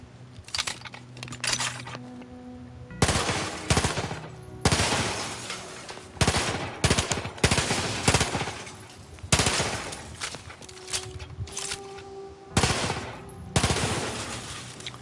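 A machine pistol firing in Outer Worlds 2, loud close bursts of rapid shots in several separate volleys, each cutting off sharply with short quiet gaps between them.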